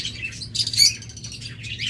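Caged lovebirds at a bird shop give a few brief, high-pitched chirps over a low background hum.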